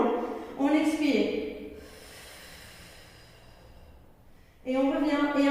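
A steady, breathy exhale during a Pilates abdominal exercise, a soft airy rush of about three seconds set between stretches of a nearby instructor's voice.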